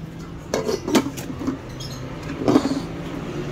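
A lid goes onto a cooking pot while fried anchovies are cooking, giving a few sharp metallic clanks and rattles spread over a few seconds, close by against a low hum of background noise.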